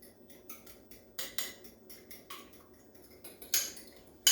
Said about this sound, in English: we want to whisk these egg yolks